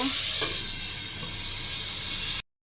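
Goat meat sizzling in a pan as it is stirred, a steady bright frying hiss with a couple of soft scraping touches early on, close and fairly quiet, ending abruptly.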